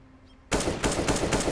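Automatic weapon fire in a Counter-Strike: Global Offensive esports match: after half a second of quiet, several loud, rapid bursts come in quick, regular succession.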